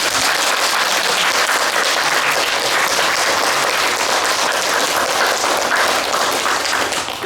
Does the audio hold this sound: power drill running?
no